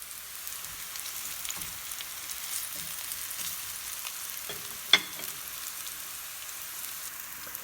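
Garlic frying in a pan, a soft, even crackling sizzle that runs steadily throughout at moderate level, with a single sharp clink partway through and no talking.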